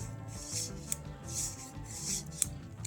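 Quiet scraping and rubbing as a Powerfix caliper jaw slides back and forth with friction, a rasping rhythm with a couple of tiny clicks.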